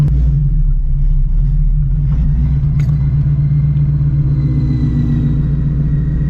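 A straight-piped Shelby GT350 rumbles at low speed while being parked, its deep, steady exhaust drone loud and close throughout with a few faint clicks above it.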